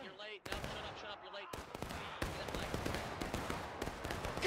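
Musket gunfire rings out in a battle from the video game War of Rights during a river crossing, with sharp, close shots and crackling volleys over a dense, continuous din.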